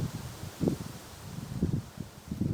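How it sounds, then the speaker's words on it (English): Wind moves through a beautiful garden tree, its leaves rustling and knocking together in soft, uneven gusts, faint and outdoors with no talking. "I just love the sound of the wind blowing through the leaves, and the leaves, I don't know, catching the wind, hitting each other"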